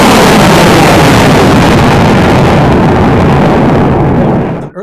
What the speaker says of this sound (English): The rocket, a NASA Terrier Black-Brant research rocket, carrying a payload designed by scientists and engineers from Air Force Research